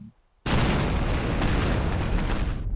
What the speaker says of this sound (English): Cinematic bomb.